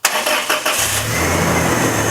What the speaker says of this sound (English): right now we're getting ready to start the car and see how it runs